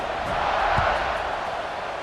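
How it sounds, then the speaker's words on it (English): A broad video game stadium crowd roar from a college football game fills the space, steady and distant-sounding, with a brief louder swell partway through. "Do you think this crowd's going to get loud when their defense comes on the field?"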